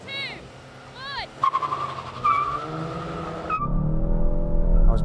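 A VW Golf GTI launches in a drag race, with engine revving and tires squealing as it pulls away, loud and close, after a voice counts down.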